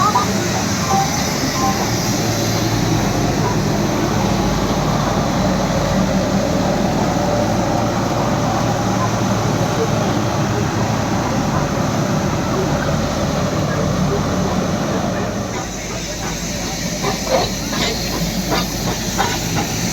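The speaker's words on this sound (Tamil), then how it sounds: "மேட்டுப்பாளையத்துலேருந்து ஊட்டிக்கு போகிற ட்ரெயின் வந்து பொறுமையாக தாங்க போகும்." Ooty toy train running from Mettupalayam on the mountain railway, a loud continuous steam hiss pouring out close by over the rumble of the carriages, with faint rail clatter emerging near the end.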